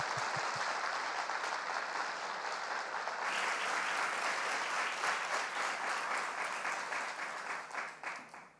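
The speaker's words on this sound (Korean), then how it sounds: "여러분 한번 뜨거운 박수로 우리 총장님 환영해 주시기 바랍니다." Warm applause from a university chapel audience welcoming the honorary president of Seoul Theological University, a steady, dense wash of clapping from many hands that holds for about eight seconds before tapering off at the end.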